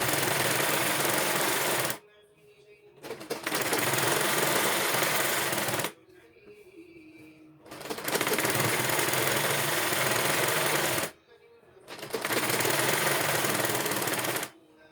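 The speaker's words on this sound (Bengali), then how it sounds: "এবার আমি আরেকটা চাপ সেলাই এর ওপর দিয়ে নিব" A sewing machine runs a second, wider reinforcing seam over the first on a cotton petticoat, loud sustained bursts of rapid mechanical whirring broken by two-second pauses, with a short stretch of talk in one gap.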